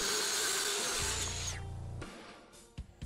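A power saw bites through a piece of wood and into styrofoam beneath it, a loud whining cut for about a second and a half, then the motor winds down and two sharp clunks follow.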